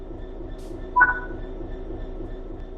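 In the Train Sim World 3 video game, a train cab hums with a low, steady rumble and faint tonal whines, with a short mechanical clunk as the train begins to move.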